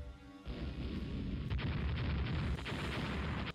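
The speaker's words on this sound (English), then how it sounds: "And now the 4-inch guns are lighting this guy up." Rule the Waves naval combat: 4-inch naval guns fire at an enemy ship. After a quiet start, a dense roar of repeated booms and blasts rolls on continuously, with a couple of sharper reports cutting through the steady low rumble.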